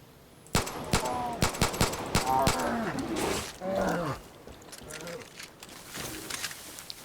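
Rapid bursts of gunfire ring out in Far Cry: New Dawn during a fight with a bear, sharp repeated shots at first, then a roaring growl and thuds, with faint voice-like sounds mixed in.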